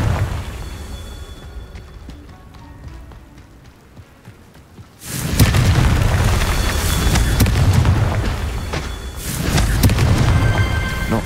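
A Confringo fire spell explodes in Hogwarts Legacy with a sudden loud roaring burst after a quieter crackling stretch, followed by a sustained rumble and a second surge near the end, with no speech.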